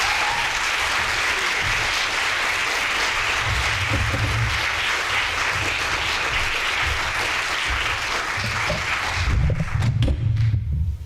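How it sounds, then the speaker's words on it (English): A lecture audience gives a warm, sustained round of applause. The clapping stays dense and even for about ten seconds, then thins into a few scattered claps and low thumps at the end. "And can we give her a warm round of applause?"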